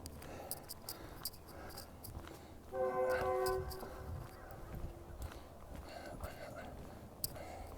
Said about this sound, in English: Here comes the Metrolink train.